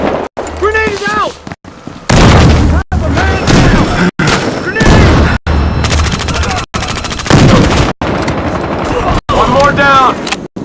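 Gunfire and explosions from a grenade in the video game Battlefield Hardline, Heist mode: loud, dense bursts of automatic fire and booms filling the whole stretch, broken by brief gaps, with shouted voices between shots.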